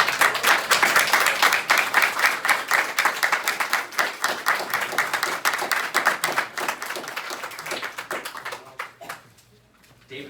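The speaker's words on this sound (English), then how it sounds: "would you please stand up so we can applaud you and your family members for all you've done" Indoor audience at a library's 50th anniversary event applauding, dense sustained clapping from many hands that fades out near the end.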